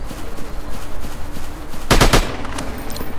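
Gunfire in a first-person dinosaur hunting shooter game, a quick burst of several loud close shots near the middle over a rough outdoor ambience.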